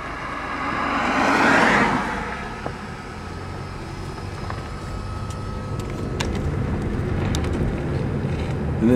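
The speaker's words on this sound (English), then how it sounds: "I'll let this car go by." A car passes close by on a flood-damaged stretch of Route 100 in Bridgewater, Vermont, after Hurricane Irene, swelling to a loud whoosh around the second mark and then fading into steady wind and road rumble.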